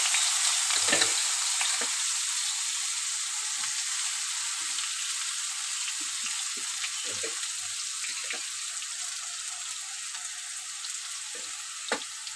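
Eggplant frying in hot oil with fried neem leaves for neem begun, a steady close sizzle with occasional spatters and stirring clinks, no talk.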